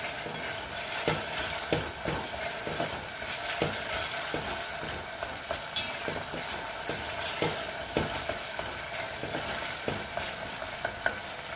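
Tomato paste fries in a pot while being stirred, a continuous close sizzle with regular scraping spoon strokes throughout, no voices.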